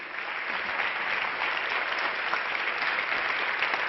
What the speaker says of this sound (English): please, a big applause for Dr. Rama Mani for such a powerful and beautiful performance